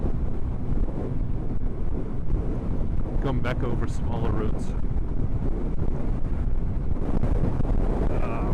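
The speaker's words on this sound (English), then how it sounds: "now it's very windy. I don't know if you can tell, but I'm being blown off the fucking road" Strong, continuous wind buffeting hits the microphone of a rider on a motorcycle out on a gusty road, roaring steadily throughout with a voice talking briefly underneath.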